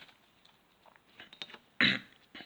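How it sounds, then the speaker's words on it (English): A single sharp cough bursts out loudly after a stretch of quiet, faint background noise, then fades quickly. "coughing a little bit."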